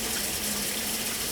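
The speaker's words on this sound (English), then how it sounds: "I'm gonna start the water." A kitchen tap pours water into a sink for washing dishes, a loud, steady, close rush of running water with no break.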